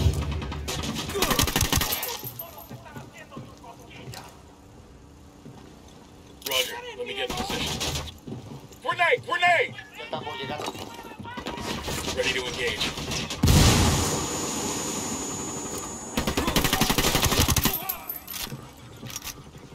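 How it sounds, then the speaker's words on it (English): Gunfire from the video game Ghost Recon Wildlands comes in loud bursts of shots and blasts, broken by quieter stretches. A player talks and game sounds fill the gaps. "I'm shooting these fuckers."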